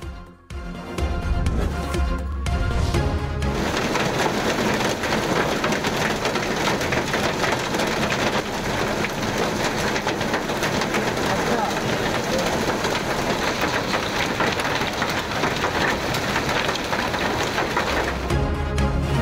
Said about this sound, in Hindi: इस्लामाबाद रावलपिंडी में मूसलाधार बारिश और यालाबारी।